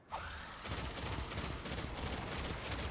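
A rapid burst of crackling game explosions and gunfire, loud and continuous, with no voices.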